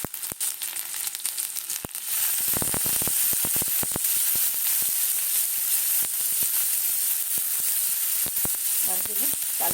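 Sliced onion hits a hot pan already holding garlic and ginger, erupting into a loud, steady sizzle that fills the whole stretch after a few clicks and clatters at the start, with no one talking.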